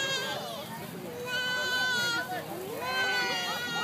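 A goat at a pumpkin patch petting zoo bleats in several long, wavering calls close by, overlapping with steady chatter from adults and children nearby.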